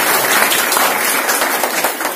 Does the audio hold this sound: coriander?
no